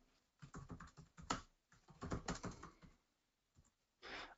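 Bursts of computer-keyboard typing, a note entered in music notation software, with uneven clusters of key clicks and short pauses between them, close and moderately quiet.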